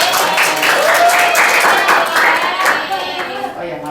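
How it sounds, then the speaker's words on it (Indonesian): A classroom of pupils claps in a steady burst of applause for about four seconds during a microteaching lesson, with children's voices mixed in underneath and the clapping fading slightly at the end. "Tepuk tangan dulu"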